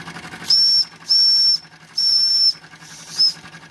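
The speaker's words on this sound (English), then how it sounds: "it's got the little whistle" A vintage Wilesco D10 toy steam engine's small, shrill whistle sounds four times: three sustained toots with short pauses, then a brief final peep, over a faint mechanical hiss.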